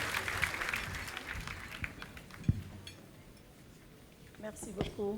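Applause at the Cauris d'Or awards ceremony for Aïssata Tall Sall, named woman politician of the year, fades from scattered clapping into quiet room noise, then a voice begins speaking near the end.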